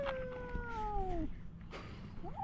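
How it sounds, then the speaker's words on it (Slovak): A stray cat meows in a few drawn-out, wavering calls, the first long and sliding downward, then a shorter rising cry, quiet and fairly close outdoors with no talking. "To není stratená mačka?"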